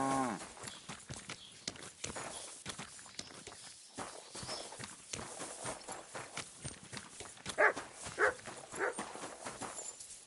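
Dog in the medieval role-playing video game Kingdom Come sounding amid steady hoof clip-clop and footsteps around a village, with repeated short bursts of activity throughout.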